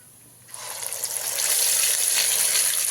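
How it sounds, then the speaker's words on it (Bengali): Spice paste, ground without water, hits a hot pan for chicken curry with potatoes, bursting into a loud, steady sizzle after a brief quiet start and building to a full, even frying hiss. "দিয়ে খুব ভালো করে মশলাটাকে ভেজে নিতে হবে"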